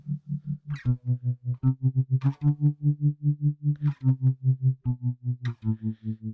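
A guitar plays through a tremolo pedal on a smooth sine-wave setting, its speed set by an expression pedal, so each note swells and fades in an even, rapid pulse. The chords sound close and clean, with no talking.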